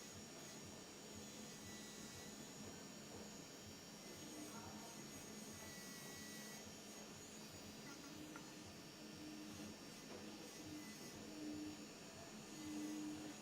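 A small polishing wheel loaded with compound works on ring claws, giving a continuous steady whine and hum that holds at an even level for over thirteen seconds.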